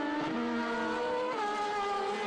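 F2000 and F1000 open-wheel race cars pass at Road Atlanta with a loud, high-pitched engine whine that drops in pitch as they go by, a second car following close behind, with no talking.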